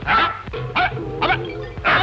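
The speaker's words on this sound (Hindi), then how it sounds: "हवलदार पे भौंकता है?" Dog barking at a police constable in a classic Bollywood comedy scene, with four loud yapping barks spaced evenly over about two seconds, close and clear with no talk.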